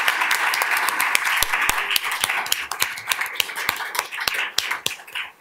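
An academic audience applauds after paper presentations at a scholars program, with steady, dense clapping from many hands that thins slightly toward the end.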